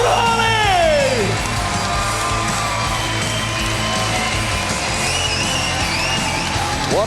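A large crowd at the CAGE 50 MMA event roars and cheers for a fighter, a sustained dense wall of noise with yells and whistles rising over it.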